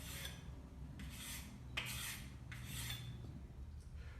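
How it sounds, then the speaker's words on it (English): A knife blade edge wipes across the leather strop of a FASTTRACK knife sharpener in four or five distinct soft swipes, each a short hissing stroke about a second apart, quiet and close. "for the second stropping process is knife blade edge away from the body, and literally just wipe the blade edge"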